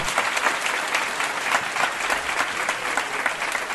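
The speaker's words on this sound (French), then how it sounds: "Un grand applaudissement pour notre sœur." A church congregation at a Bible study gathering applauds, dense continuous clapping filling the hall at moderate loudness with no speech over it.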